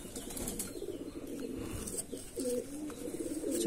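Andhra Madrasi pigeons cooing in low, repeated throaty calls, mixed with wing flaps and close rustling against a busy background.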